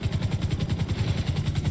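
Helicopter engine in the FiveM mod of GTA V, a steady loud rotor thump pulsing rapidly and evenly over a constant whine, with no voices.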